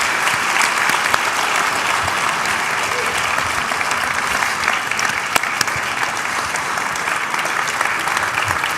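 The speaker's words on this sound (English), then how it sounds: "can we have a big round of applause for a great American?" A lecture audience at an annual memorial lecture gives a big, sustained round of applause for a general, steady and full throughout with no pause.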